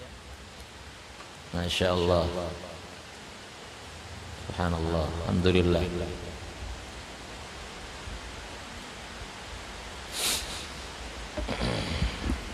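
Rain falls steadily during an evening religious lecture, a constant soft hiss in the background while someone speaks a few short phrases.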